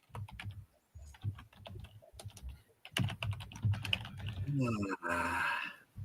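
Quick clattering keystrokes on a computer keyboard as names are typed, in irregular bursts and pauses, with people talking over it toward the end.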